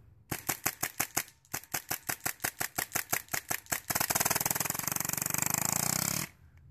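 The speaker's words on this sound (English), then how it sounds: "Now I'm going to fire really fast." Tippmann M4 Carbine CO2 blowback airsoft gun fired rapidly: a run of sharp, evenly spaced semi-auto cracks that turns into a dense continuous buzzing rattle, then stops.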